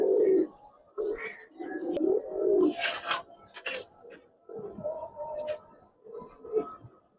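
Jelly pigeons cooing in a loft, a series of soft, close coos in short repeated bursts with brief pauses between, plus a few faint chirps.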